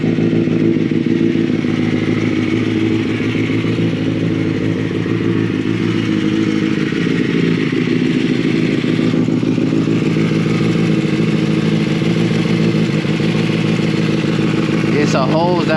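A Kawasaki ZX6R motorcycle with a straight-piped exhaust idling steadily, a loud, continuous rumble heard up close for the whole stretch, with a faint clatter near the end.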